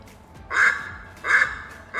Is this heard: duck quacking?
yes